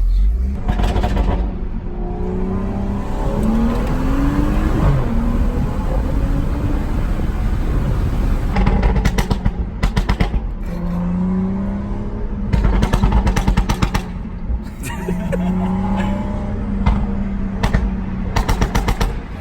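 A tuned BMW 335i exhaust burbles with a steady low rumble, broken by bursts of sharp, gunshot-like pops and crackles that come in several clustered volleys, loud and close.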